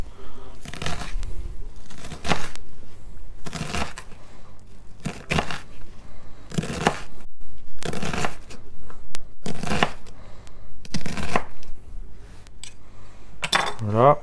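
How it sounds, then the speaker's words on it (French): A knife chops an onion finely on a board, crisp close bursts of rapid cutting in irregular runs separated by short pauses, with no talking. "Voilà, on a bien émincé notre oignon."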